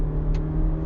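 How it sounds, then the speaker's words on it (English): A 2017 Mazda3 GS engine revs after a downshift, giving a brief, steady mid-pitched drone heard from inside the car. "I'll drop a cog so you can hear the engine in action"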